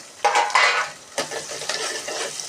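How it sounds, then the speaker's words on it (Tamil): Small shallots sautéing in a pan for a murrel fish curry, close spatula scrapes and clatter over a soft sizzle, in short irregular bursts without talk. "இப்போ சின்ன வெங்காயம் போடுறேன் இந்த சின்ன வெங்காயம் ஒரு எண்பது பர்சன்ட் வதங்கினா போதும்"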